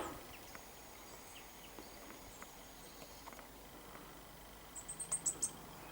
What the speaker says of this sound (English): There's the great tits up there.